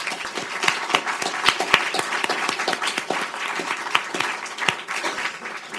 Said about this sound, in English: please ask all of you in joining me with a round of applause